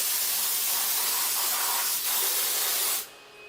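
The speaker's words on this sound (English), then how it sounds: "stop the spindle, turn off the coolant" Loud, steady hiss of CNC machine coolant spray runs continuously, then cuts off abruptly near the end, leaving a quieter machine-room hum as the spindle stops.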